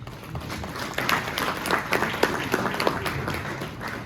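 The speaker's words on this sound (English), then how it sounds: "let's give a round of applause to our panel" An audience at a business luncheon during a national student entrepreneurship competition claps for a panel, a moderately loud, steady patter of many hands lasting several seconds with a few sharper individual claps.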